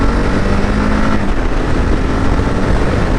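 Engine of a 2022 Kawasaki KLR motorcycle on the highway, a loud continuous drone blended with heavy wind rush, steady throughout with no talking.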